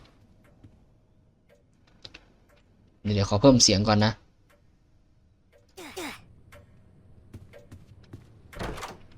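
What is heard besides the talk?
antique clock ticking in the Roblox game Doors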